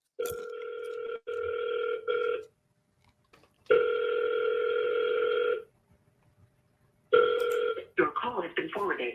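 Outgoing phone call ringback tones: three long electronic ring pulses with silent gaps between them, clear and close, followed by a short burst of a recorded voice at the end.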